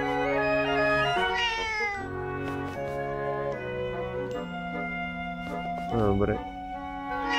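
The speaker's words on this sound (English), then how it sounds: "And she has a cat." A cat meows inside The Legend of Zelda: Echoes of Wisdom, brief rising cries sitting over steady, tinkling game music, with a short spoken remark in between.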